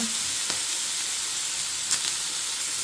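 Chicken breast sizzling steadily in a frying pan, a loud continuous hiss with faint clicks of movement, no talking.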